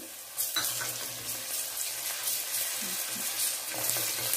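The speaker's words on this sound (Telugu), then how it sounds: "ఆనియన్స్ ఫ్రై అయ్యాక అల్లం వెల్లుల్లి పేస్ట్ అండి ఇది కూడా బాగా వేయించుకోవాలి" Onions and ginger-garlic paste frying in a pan for vegetable pulao, giving a continuous moderate sizzle with occasional stirring scrapes and small pops, heard alone without speech.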